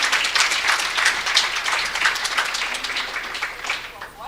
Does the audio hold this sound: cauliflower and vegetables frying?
no